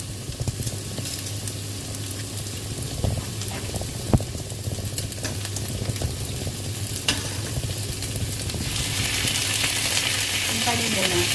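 Chicken and pork pieces sauté for adobo, giving a steady close sizzle in the pan with occasional utensil clinks; the frying grows louder and brighter toward the end.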